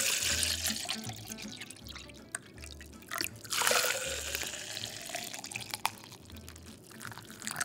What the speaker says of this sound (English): We did eventually pour the water.